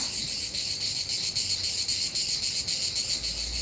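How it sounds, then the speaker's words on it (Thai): Cicadas buzz loudly and continuously in a sunny garden, a steady pulsing shrill chorus that fills the air with nothing else standing out. "ได้ยินแต่เสียงจักรจันนั่นแหละพี่น้อง"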